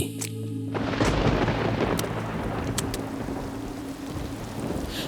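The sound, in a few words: thunderstorm with rain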